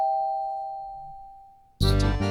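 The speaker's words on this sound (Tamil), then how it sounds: "மாமா காலிங் பெல் அடிக்கிறது" A doorbell chimes, a single sustained ding fading away, then a louder two-tone ding-dong rings out close by with no talk.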